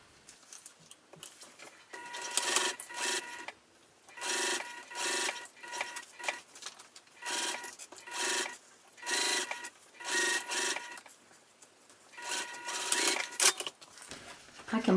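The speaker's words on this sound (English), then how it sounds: "And now I'm going to sew with the full seam allowance to get those all matched up." A sewing machine stitches a seam at full seam allowance, running close by in short rhythmic bursts of about a second each, separated by brief pauses, with faint handling noise between runs.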